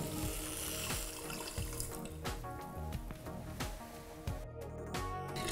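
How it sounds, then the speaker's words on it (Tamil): Water pours steadily into a pot of sugar for badusha syrup, a close continuous splashing stream with a few clunks of the vessel. "அதில் ஒரு கப் தண்ணி ஆட் பண்ணிக்கிறேன்."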